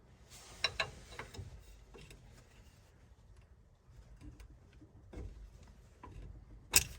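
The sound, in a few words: removing the tie rod pin on an F150 front axle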